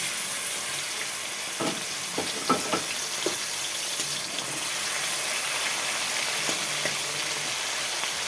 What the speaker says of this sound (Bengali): নুন হলুদ মাখিয়ে রাখা চিংড়ি মাছটা আমি দিয়ে দিচ্ছি